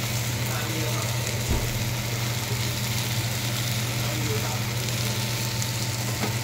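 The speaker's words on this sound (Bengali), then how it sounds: "গুঁড়ো মশলা দিয়ে আবার একটু কষিয়ে নিতে হবে।" Ground spices sizzling and frying in a pan with a loud, continuous crackling hiss over a low steady hum, close by and unbroken, with no clear speech.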